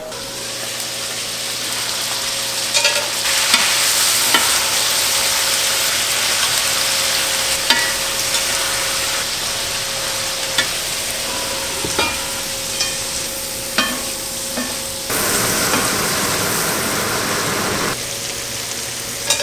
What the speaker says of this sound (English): I'm also going to saute some green beans in some butter